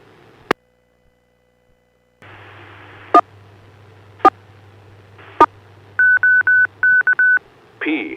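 DTMF keypad tones sent to set up an amateur radio repeater for net mode: a few isolated beeps, then rapid clusters of dialing tones over a hissing radio carrier, ending in a short burst of noise.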